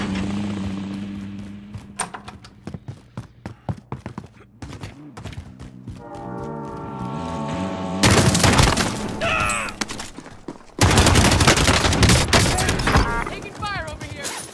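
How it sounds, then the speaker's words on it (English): Bursts of gunfire and loud impacts from a Call of Duty Warzone match, with rapid rattling shots and heavy booms coming in clusters, mixed with players talking over the action. "Taking fire over here."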